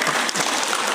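An audience breaks into a short, dense burst of clapping at a motivational talk in Yogyakarta, loud and steady from start to finish with no voices on top.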